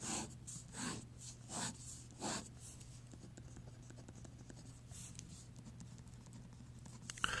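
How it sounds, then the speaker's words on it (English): Faint handwriting, several short scratchy strokes in quick bursts early on, then quieter scratching over a low background hum. "I'm going to write together for this one up here"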